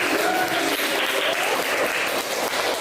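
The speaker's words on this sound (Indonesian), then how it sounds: "kita beri tepuk tangan." Schoolchildren in a classroom clap together in a loud, continuous round of applause that fills the room from start to finish.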